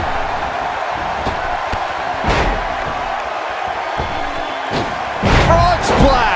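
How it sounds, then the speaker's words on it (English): A wrestler lands a frog splash with a sharp slam-like thud in a noisy wrestling arena, followed by a surge of crowd noise and cheering, over a steady background roar. "Frog splash!"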